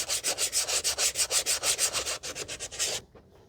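Sandpaper rubbed by hand across the rear brake drum of a 2017 Toyota Corolla 1.8, a rapid steady back-and-forth scratching of about five strokes per second, close and alone, stopping just before the end.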